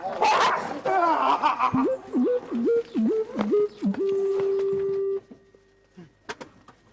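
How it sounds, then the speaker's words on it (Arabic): A dog in a garden gives several yips and whimpering barks, close and fairly loud, mixed with a voice that rises and falls in a sliding, melodic pattern before a few faint trailing sounds. "هذا كلب بالحديقة"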